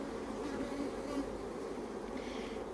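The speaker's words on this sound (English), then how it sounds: "just slightly defensive bee on my hand right there" Defensive honeybees buzzing at an open, growing beehive, a steady dense hum of many bees close by, continuous and fairly loud with no talk.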